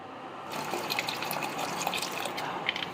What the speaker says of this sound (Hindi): इसके अंदर 1 मग पानी डालेंगे